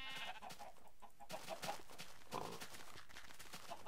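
Several short, thin sheep bleats in Minecraft sound in quick succession over a quiet farmyard background, fairly faint and synthetic in tone.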